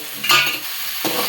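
Prawns frying in an onion-tomato masala as they are stirred in a pan, a short burst of sizzle with a quick scrape of the spoon, fairly close and with no voices.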